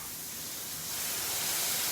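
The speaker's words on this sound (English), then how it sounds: "That cooking stock immediately creates steam" Chicken stock poured into a very hot pan to deglaze it, giving a steady broadband steam hiss that swells slightly louder over two seconds, with no talking.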